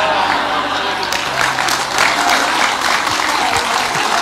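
An audience at a religious lecture gives continuous, fairly loud applause with a lively crowd murmur mixed in. The clapping holds evenly from start to finish.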